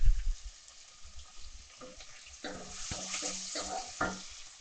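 Fresh mint leaves drop into a pan of sautéed ginger-garlic paste for chicken korma. The sizzle is fairly faint, rising in short bursts with stirring scrapes and a few clinks.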